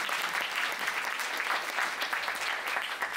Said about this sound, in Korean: 다 같이 박수 한번 치면서